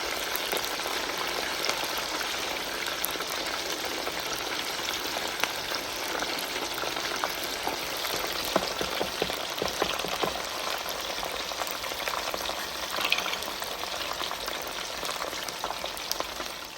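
Homemade garlic oil boiling and sizzling in a pan, a steady dense crackle and spatter with continuous popping bursts throughout, close and loud with no talk.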